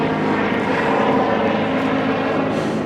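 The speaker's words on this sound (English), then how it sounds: "There's the helicopter." A helicopter flies overhead near botanical gardens in Melbourne, Florida, its engine and rotor making a loud, steady drone with rhythmic pulsing throughout.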